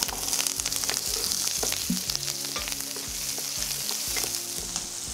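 Onions fry in oil in a pan with whole spices and curry leaves, giving a continuous close sizzle broken by repeated stirring scrapes, with no one speaking.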